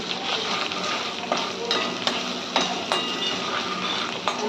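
Green chili paste with jackfruit vegetable sizzles and fries in a pan up close, with a continuous crackle broken by regular scraping strokes from stirring.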